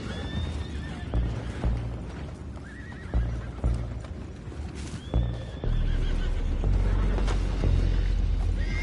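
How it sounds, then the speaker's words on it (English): Horses in the video game Red Dead Redemption 2 neigh and whinny repeatedly over a constant clatter of hooves and rumbling movement, with no one speaking. "go find out about those horses down below"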